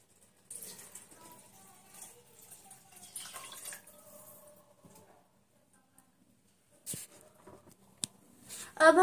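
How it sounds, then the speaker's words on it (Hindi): Water is poured into a pot of Maharashtrian Khandesh-style khichdi with a soft, gurgling splash for several seconds. It fades into quiet, then a few brief clinks and drips follow, all close by and faint. "अब हम इसमें पानी डालेंगे।"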